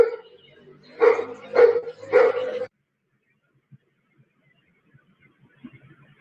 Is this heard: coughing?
no